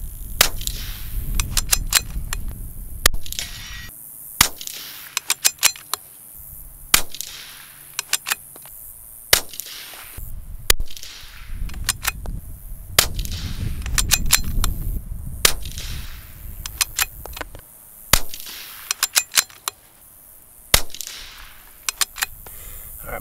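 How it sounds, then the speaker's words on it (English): A .22LR rifle fitted with an EC tuner fires three types of ammunition outdoors. Sharp, loud single cracks come at irregular intervals, a few in quick pairs, with quieter handling noise in between. "Last 10 shots."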